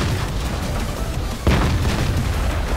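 A World of Tanks tank gun fires with a single heavy boom partway through, over a dense, rumbling battle din that continues steadily before and after the shot.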